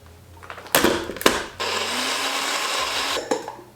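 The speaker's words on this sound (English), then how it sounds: "Back in the blender we go." A kitchen blender blends ice for a milk and cookies frappe, starting with two short loud pulses, then settling into a sustained whirring grind with chunks rattling, before cutting off and giving one final brief burst.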